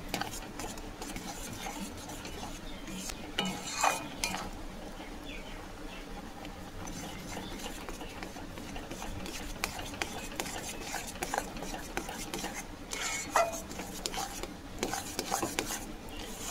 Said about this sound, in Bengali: ততক্ষণ পর্যন্ত সুজিটাকে নাড়াচাড়া করে নেব